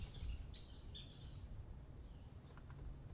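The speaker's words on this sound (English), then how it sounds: "I hope y'all can hear the birds. The birds are really happy today." Faint birds chirp and tweet in short high calls outdoors, a few brief phrases over a low rumbling background.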